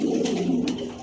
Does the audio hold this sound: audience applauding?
no